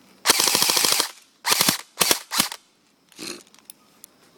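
A KingArms M4 airsoft rifle fires 20 gram BBs in several rapid full-auto bursts of sharp cracks, one long burst then shorter ones, followed by a few scattered single pops, close and loud with no talking.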